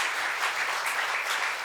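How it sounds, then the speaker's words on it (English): Live audience applause at a studio show taped in Chicago, a dense steady roar of many hands clapping at fairly even loudness, with no voices over it. "Keep the applause going for Ashley."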